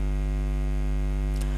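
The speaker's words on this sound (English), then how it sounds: "the dynamo connected with the sewing machine evenly start rotating" A sewing machine spins a dynamo through pulleys, giving a loud, steady, unbroken electrical hum with strong even overtones throughout, with no talk over it.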